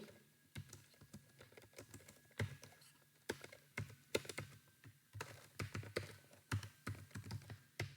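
Someone types JavaScript code on a computer keyboard, with irregular runs of quick, close keystrokes and short pauses at a modest, steady level, and no one speaking.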